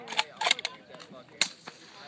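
Suppressed subsonic .308 Winchester rifle shots through a Thompson Machine suppressor, outdoors: a few sharp muffled cracks spaced apart at close range, with brief voices around them.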